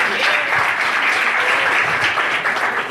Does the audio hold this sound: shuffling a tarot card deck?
no